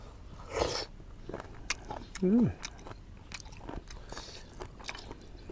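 Soft crunching bites and chewing of a crunchy snack while eating spicy seafood with dipping sauce, close to the mic, with a short voiced sound partway through and light background noise.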